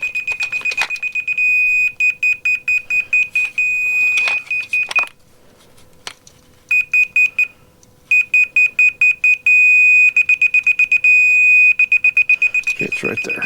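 A measuring device beeps in fast, loud bursts as a garage drain pipe is raised and tightened. The beeping breaks off briefly, then resumes as a steady tone before falling back to quick pulses, with clanks of handling in between.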